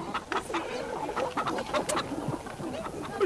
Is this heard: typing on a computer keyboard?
no